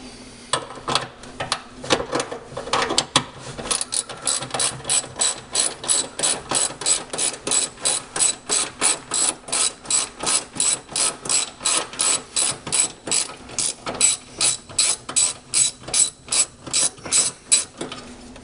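A ratchet wrench loosens the battery restraining bar on a 2010 Toyota Prius, producing a long run of rapid, regular clicks close to the mic, with no talking.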